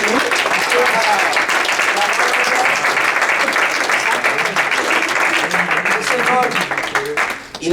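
Dense, loud applause from a church congregation, a continuous wash of many hands clapping that holds steady and then tapers slightly near the end, with voices mixed in.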